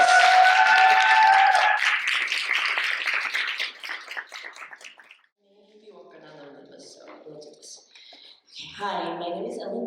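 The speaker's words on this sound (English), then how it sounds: "Give her a warm applause." Audience applause welcoming a speaker to the stage at a talk, dense and loud for about five seconds, then fading into scattered quieter sounds with voices in the room.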